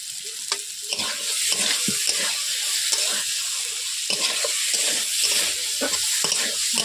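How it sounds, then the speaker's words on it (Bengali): Potatoes are sautéed with spices in a pan for a Bengali fish curry (basi macher jhal), with a continuous sizzle under repeated scraping stir strokes. The sound is close and lively, with no talk. "মশলার সঙ্গে আলুটাকে ভালোভাবে আমি কষিয়ে নিচ্ছি 2 মিনিট"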